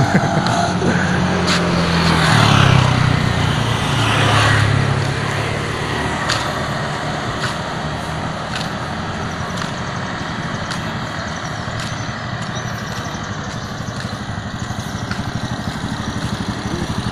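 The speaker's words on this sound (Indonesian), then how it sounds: "Ya, ada mobil mau masuk ke gang." A car pulls into a narrow alley off Sam Ratulangi street in Manado, its engine a steady rumble that swells briefly near the start and then settles into continuous traffic noise, with no talk.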